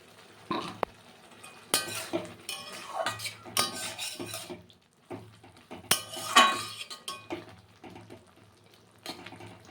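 Vegetables for a Bengali vegetarian dish are stirred and sautéed in a pot with a splash of water, with repeated scraping and clinking of a spoon against metal in uneven bursts, fairly close and moderately loud.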